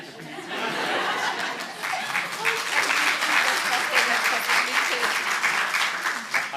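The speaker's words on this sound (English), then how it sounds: "I think just another round of applause" Audience at a university health sciences research day gives a round of applause, swelling to a full, sustained patter with a little laughter mixed in.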